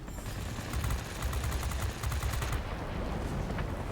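A Spitfire Mk. Ia in World of Warplanes fires its guns in a fast, steady rattling burst over a constant engine roar, close and loud, ending after about two and a half seconds.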